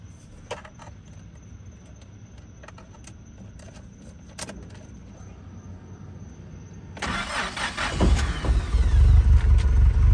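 A Starquest car sits quietly through a few light clicks, then its engine cranks, catches and settles into a loud, steady idle close by.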